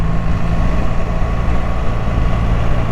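A BMW R1300 GS motorcycle engine runs at a steady idle, a close, even low rumble that holds at the same level throughout with no voices.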